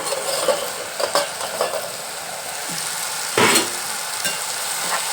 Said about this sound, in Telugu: చూసారా బాగా వేగాలి